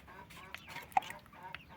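Soft, intermittent clucks and peeps from chickens and chicks being fed, faint and close, with short sharp chirps scattered across a quiet background.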